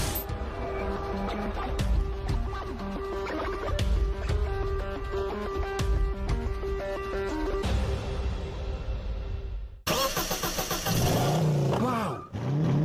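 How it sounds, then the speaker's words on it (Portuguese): An original V8 265 car engine running and revving, close and steady with a rumbling low end, swelling in a louder rev toward the end; no speech over it. "Motor V8 265. É tudo original."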